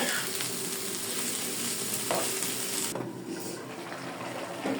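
Fried vegetables with fresh coriander leaves sizzle loudly and steadily in a pan while a spatula stirs, and the frying noise drops a little toward the end.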